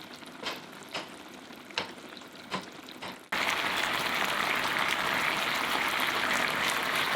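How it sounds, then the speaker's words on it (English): Char siu braising sauce boils down in a pan over high heat, a few soft bubbling pops giving way to a loud, steady, close sizzle that fills the rest of the clip. "Uncover the pan, increase the heat to high, and reduce the sauce for about 3 minutes."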